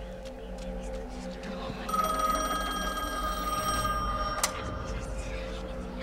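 A telephone rings inside the horror video game The Medium, its steady bell tone sounding for about two seconds over a low ambient drone and then stopping.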